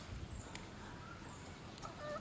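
Country chickens cluck softly on a farm, scattered faint calls over a steady low outdoor rumble, with no talking.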